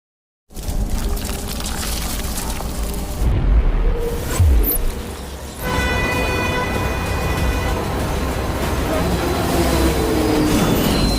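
A train in the film Bird Box Barcelona rumbles past close by, a loud steady roar of wheels and cars with a brief deeper boom midway and no voices.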